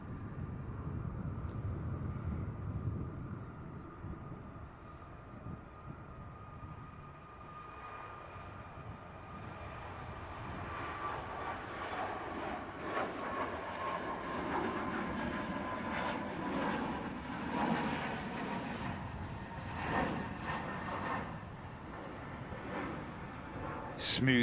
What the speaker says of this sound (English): Smooth departure from the Ryanair.